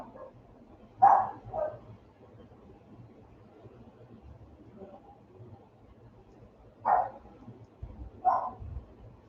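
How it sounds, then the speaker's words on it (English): A few dogs at home give sparse barks, with two or three short yaps spread across a quiet indoor room and a low background hum beneath them. "the dogs have to start chatting away"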